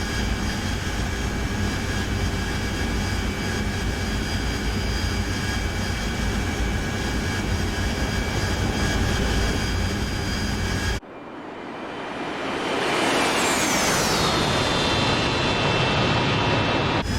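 A Harrier jet taking off in DCS, first a steady loud whining engine drone, then a sudden cut to a rising roar as the engine spools up and sweeps upward in pitch, staying loud to the end.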